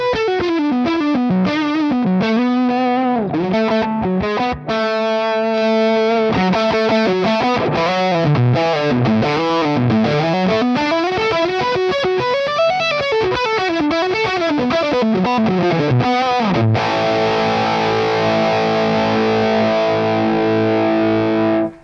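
Raw-channel electric guitar through a Mesa Boogie Road King amp, playing a continuous distorted riff with sliding melodic runs, then ending on a held, ringing chord, loud and close throughout.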